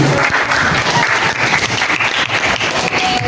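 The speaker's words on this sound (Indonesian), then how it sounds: "Beri tepuk tangan ya" Loud, dense applause from a class audience after a student presentation, continuous clapping from many hands filling the entire stretch.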